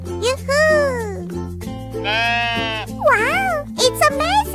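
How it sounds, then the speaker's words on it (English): A sheep bleats loudly up close in several wavering calls with short gaps between them, the last ones quick and broken. No voices are heard. "Sheep."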